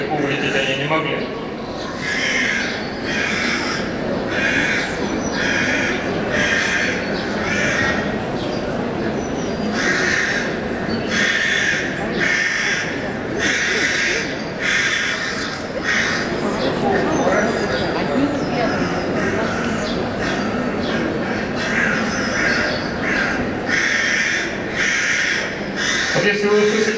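Crows cawing repeatedly in alarm as they flit between trees around a hidden predator such as an owl or hawk, loud and persistent over a busy background, with a person talking throughout.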